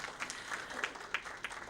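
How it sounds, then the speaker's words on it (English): Scattered, fairly faint applause from an audience at a product launch event, a few distinct claps standing out over a soft crowd wash, brief and somewhat distant. "thank you so very much for this amazing, amazing applause"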